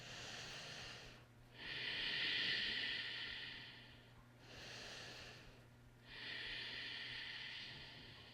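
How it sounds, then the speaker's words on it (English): Slow, audible breaths during a seated chair yoga stretch: two long airy exhalations with a quieter inhale between, close and soft over a faint steady hum. "And breathing into the stretch once you find it."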